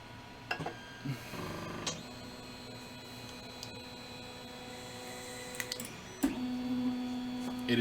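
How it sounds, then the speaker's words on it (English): A Creality CR10 S5 3D printer runs with a low, steady mechanical hum and whine, broken by a few sharp clicks and short motor sweeps, fairly faint and heard without talk. "Not a quiet printer"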